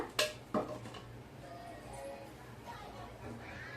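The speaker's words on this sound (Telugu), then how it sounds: "ఇడ్లీ పాత్ర గిన్నె అయితే పెడుతున్నా." A metal idli steamer vessel is set down on a lit kitchen stove with two sharp, close clanks in quick succession, followed by quieter kitchen clatter as a voice talks.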